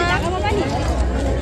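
Dense crowd babble surrounds the listener on a packed railway station platform during Kali Puja, with many overlapping voices close by and no single speaker standing out.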